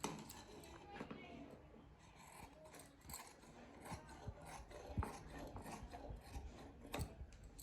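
Scissors cut through blouse fabric close by with rasping, scraping snips at an uneven pace, joined by occasional light clinks.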